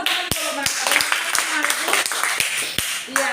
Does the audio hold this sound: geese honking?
no